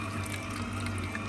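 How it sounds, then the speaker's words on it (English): Water pours steadily from a container into homemade pizza dough, a short, close, continuous trickling splash heard alone. "let's add the last water"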